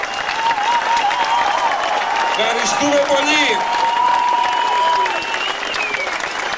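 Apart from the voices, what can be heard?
concert audience applause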